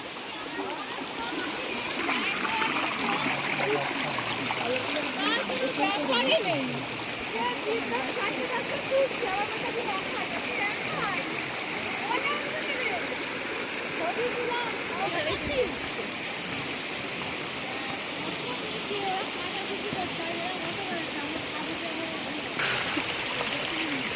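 Stream water rushing steadily beneath a single-track bridge crossing in Meghalaya, a continuous broad flowing hiss throughout, with people talking over it.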